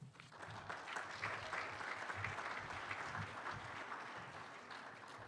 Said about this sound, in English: I usually start by thanking you for the lukewarm round of applause